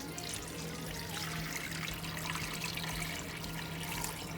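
Stock poured slowly into a pot over baby back ribs, a continuous close splashing trickle of liquid with a low steady hum underneath.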